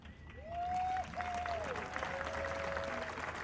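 A crowd at a Prescott Veterans Day parade claps steadily and loudly, with a whistle rising above the applause.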